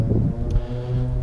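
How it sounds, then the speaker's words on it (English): Low rumbling wind buffets the microphone on the coast at Lyme Regis, a steady muffled roar with gusty swells and a faint tonal hum underneath. "I'm gonna have to put the microphone on. It's very windy up through here."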